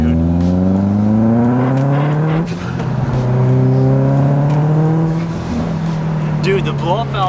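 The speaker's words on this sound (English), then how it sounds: "the blow-off valve sounds sick" Full bolt-on Subaru WRX running e85 pulls hard under acceleration, engine drone rising then dropping with a sharp turbo blow-off whoosh between gears, heard from inside the car as occupants talk over it.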